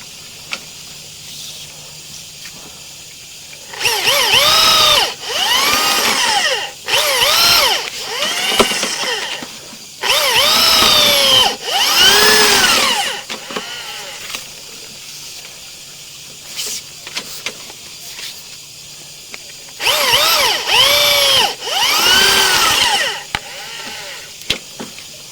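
A sewer drain cleaning machine spinning a root cutter inside a sewer line, heard as three loud bursts of whirring, grinding motor noise with a wavering whine, separated by quieter pauses.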